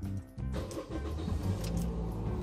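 A Toyota Yaris engine cranks and catches to a running idle, close and steady after a brief starter whir at the start, with no voices over it.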